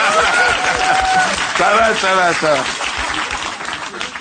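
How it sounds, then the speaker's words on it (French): A studio audience claps steadily for a contestant on a French television show: a dense, continuous wash of applause fills the whole clip at strong level while a presenter talks over it. "On peut l'applaudir."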